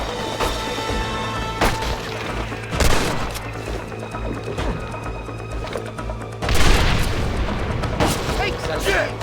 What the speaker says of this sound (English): Watch the top of that cliff! They're shooting down on me!